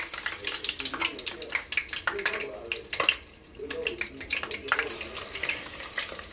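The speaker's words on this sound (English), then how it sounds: "And as soon as you drop them in, they're frying." Hot Cheetos-coated chicken wings lowered in a fryer basket into hot oil, sizzling and crackling steadily with busy bubbling bursts for several seconds and one brief lull midway.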